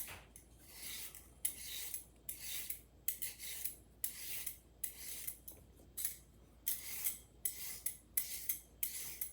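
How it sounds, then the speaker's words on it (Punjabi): Carrots being peeled by hand, a quiet rhythmic rasping scrape repeated in quick strokes, close and alone with no talking. "ਇਸ ਤਰ੍ਹਾਂ ਕੰਟੀਨਿਊ ਆਪਾਂ ਸਾਰੀਆਂ ਹੀ ਆਪਣੀਆਂ ਗਾਜਰਾਂ ਛਿੱਲ ਲੈਣੀਆਂ"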